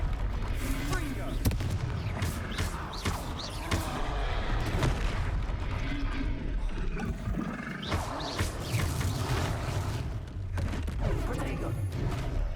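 Blasting-spell explosions sound in Hogwarts Legacy combat, with repeated booming blasts and a deep, roaring rumble over a dense, continuous game soundscape. Voices speak at times.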